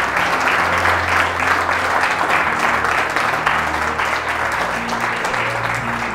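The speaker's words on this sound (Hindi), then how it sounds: "जोर से ताली बजा सकते हो" A church congregation claps at a sermon gathering, steady dense applause from a large crowd throughout, close and loud.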